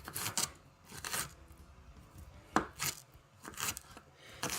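A knife chops onions finely on a board, with quick bursts of close, crisp cuts in an uneven rhythm; no one speaks.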